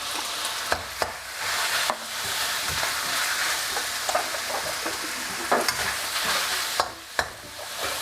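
Pork for Thai garlic pork stir-fries in a pan with oyster sauce, giving a loud, steady sizzle close by, broken by several sharp spatula scrapes and knocks. No talking.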